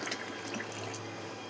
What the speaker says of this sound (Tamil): இப்போ இந்த கேவூர் கூழை இதில் ஊற்றி